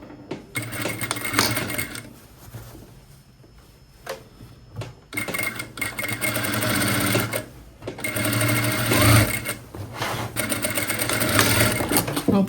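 A sewing machine stitches down the hem of a summer flare circle dress, its rapid motor whir running in bursts with short pauses between runs, close and fairly loud, with no talking.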